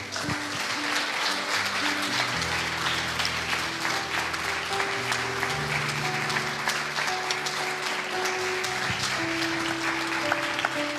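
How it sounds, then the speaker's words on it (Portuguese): A church congregation claps loudly and continuously through a celebration service while sustained keyboard or organ chords play underneath, dense and steady for about eleven seconds. "Dê uma forte salva de palmas a Ele."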